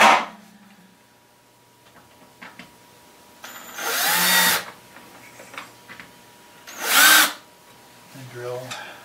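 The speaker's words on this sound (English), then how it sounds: "And drill the screws into the board." A power drill whirs in short bursts, two longer runs driving screws into a board, with quiet handling clicks and taps between them.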